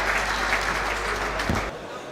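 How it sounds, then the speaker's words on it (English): Crowd applause at an All-Ireland men's 60x30 handball final, a dense steady roar of clapping that carries on for most of the moment and then cuts off abruptly near the end. "The crowd rises to their feet in appreciation."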